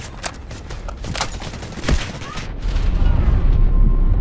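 Shots ring out in the video game Delta Force: Hawk Ops, scattered single cracks and short bursts with one heavier boom, giving way to a rumbling wash of distant fire.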